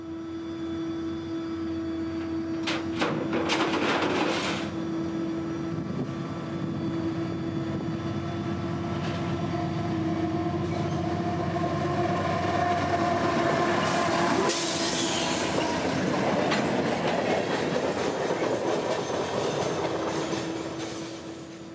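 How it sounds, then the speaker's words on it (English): CSX freight train L729, pulled by two locomotives, passes close by with steady, loud rumbling and wheel clatter, and bursts of horn or brake screech rise out of it midway. "2 engines would power this impressive train up the hill this morning"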